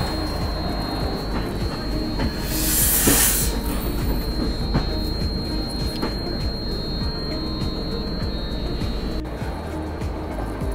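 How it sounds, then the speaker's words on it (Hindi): The August Kranti Rajdhani Express runs through Dadar station in Mumbai without stopping, a continuous rumble and clatter of passing coaches with hiss and brief bright squeal, loud and close, no voices. "तो आप लोग इन्जॉय कीजिए अगस्त क्रांति एक्सप्रेस के दादर स्टेशन को बिना रुके पार करने को।"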